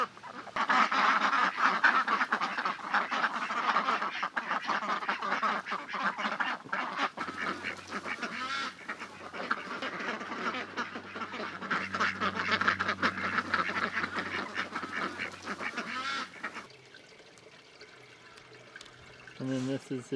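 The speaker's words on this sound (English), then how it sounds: "There's so many ducks everywhere." A crowd of ducks quacks continuously and loudly close by in an outdoor aviary, with overlapping calls and some water sounds, while a person talks.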